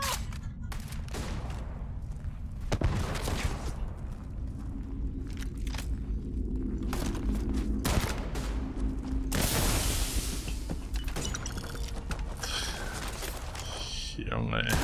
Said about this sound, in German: Die Waffe knallt